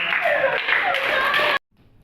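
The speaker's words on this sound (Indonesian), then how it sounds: "Beri tepukan untuk kalian dan Bunda." A classroom of students claps their hands for about a second and a half, a close, lively patter of clapping that stops abruptly, leaving near silence.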